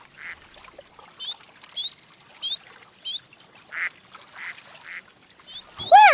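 Cartoon ducks on the water in an animated children's show, quacking in a series of short calls spaced roughly every half second, ending with a louder, longer honking call at the close.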